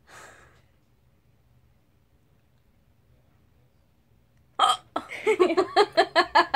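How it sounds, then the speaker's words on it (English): A person hiccups in a rapid series of sharp, loud bursts near the end, each about half a second apart, following a brief breathy sound at the start and a long quiet gap. "Experimenting with hiccups."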